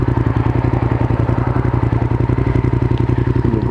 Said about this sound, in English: Oh, I love the sound of this bike too.